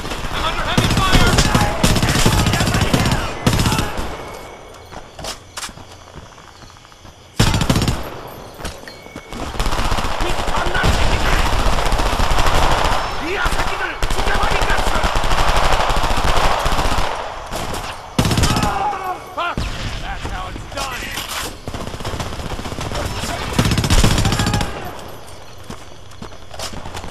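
Heavy automatic machine-gun fire from the Homefront first-person shooter, long sustained bursts with short gaps, loud and close, mixed with other battle noise and shouted voices.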